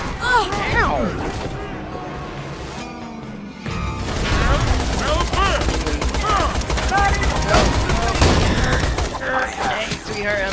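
Rapid gunfire in Borderlands 2 rattles in dense bursts aimed at the player, with crashing impacts throughout and a brief lull before the shooting resumes loud and steady.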